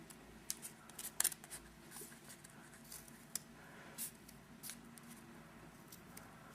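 Scissors snip small notches into cardboard leaf shapes cut from toilet paper tubes, a few quiet, scattered clicks and crisp snips over a windy, rustling background.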